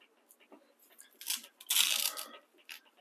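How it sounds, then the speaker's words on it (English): Velcro strap on a Ruger 10/22 buttstock magazine pouch being pulled tight and pressed shut, a short rasping rip followed by a longer louder tearing burst amid small handling clicks, close up. "pull it nice and tight, and secure that Velcro"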